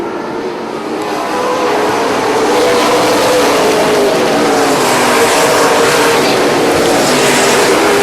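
Super late model race cars roar off after the green flag at a short oval track, a dense continuous engine drone that builds and holds loud, with no voices over it.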